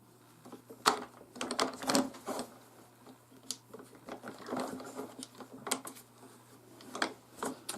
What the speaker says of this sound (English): when you lift up the bolt, it cocks the rifle